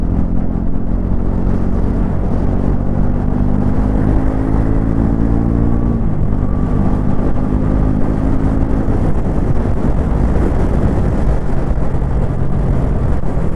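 A 349cc Bajaj Pulsar NS400Z motorcycle from 2026 revs hard and accelerates up through its gears, its loud, steady engine roar climbing in pitch and dropping at each shift, with continuous rumble and wind throughout.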